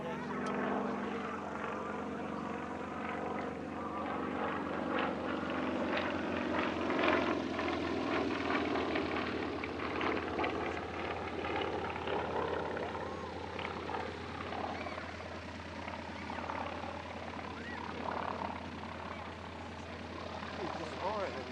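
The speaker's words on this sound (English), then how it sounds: "First into the air, we have this French-registered Yak 50" A French-registered Yak-50 aerobatic aircraft flies at a Duxford airshow, its propeller engine droning steadily at a distance and swelling and fading as it manoeuvres, under an ongoing announcer's commentary.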